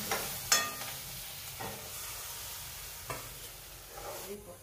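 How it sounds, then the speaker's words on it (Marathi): Cut red chillies drop into hot oil already holding cumin, mustard seeds, asafoetida and turmeric, sending up a broad steady sizzle with a few sharp crackles and pops. "तेल ठेवलेले, तापत जिरे, मोहरी, हिंग, हळद टाकलेले आणि बघा लाल मिरच्या कापून टाकून राहिलेले."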